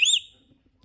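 A pet parrot gives one short, clear, high whistle close up, sliding slightly upward, then cuts off into near silence.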